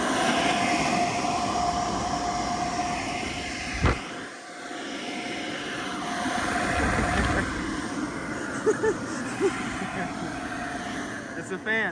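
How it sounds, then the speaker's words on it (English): A new Walmart paint booth fan runs with a loud, continuous broadband whoosh that briefly drops away then swells back, while people talk nearby. "It's a fan, not a toy."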